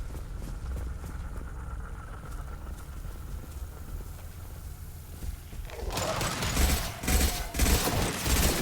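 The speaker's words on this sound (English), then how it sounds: "Firing a high-impact shot!" Gunfire in the video game Mass Effect 2, a high-impact shot from experimental weaponry: after several seconds of quiet ambience, loud dense bursts of shots and blasts erupt and continue to the end.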